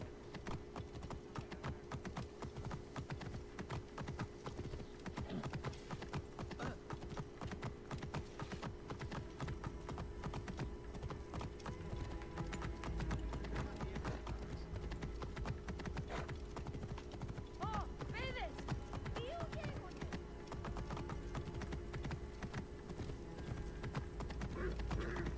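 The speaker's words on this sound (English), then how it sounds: "This horse feels like it's lumbering along so slowly." Horse hooves clip-clop at a steady, unhurried walking pace in the video game Assassin's Creed Origins, continuous and moderately faint against a constant background hum, with faint clicking like keyboard typing mixed in.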